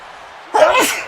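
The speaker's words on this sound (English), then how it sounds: "That was me sneezing." A single sharp sneeze from a streamer, a short intake followed by a loud burst close to the microphone.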